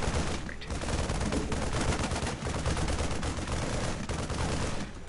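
Siege tanks firing in the StarCraft 2 Wings of Liberty campaign: a dense, continuous barrage of heavy booming shots and explosions, loud and unbroken, with a player's voice faintly beneath.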